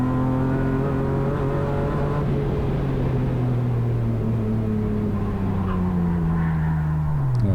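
A BMW E36 rallycross car slides toward tyre barriers, its engine a loud, steady drone whose pitch sags and falls across the slide, with faint tyre scrub underneath.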